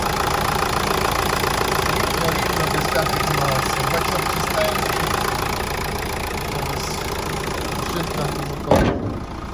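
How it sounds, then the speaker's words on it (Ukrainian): A car engine idles steadily and evenly nearby, a constant low rumble that carries on until a brief knock near the end. "Робить рівненько мотор, мені дуже подобається, як він працює."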